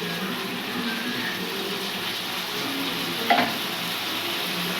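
Pointed gourd with poppy seed and white mustard paste and sour curd frying in a pan, a dense steady sizzle with a single short clatter of stirring near the end, no voices.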